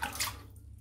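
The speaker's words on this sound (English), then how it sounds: "Bit of water." Water runs briefly while someone shaves, a soft splashing burst that fades to quiet within a second.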